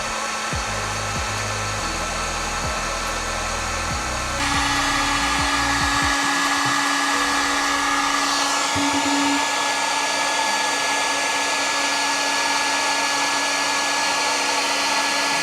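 A heat gun shrinking heat-shrink wire connectors on 12-volt wiring blows with a steady whooshing hum; after a few seconds the airflow gets louder and holds as a constant drone, with no voices.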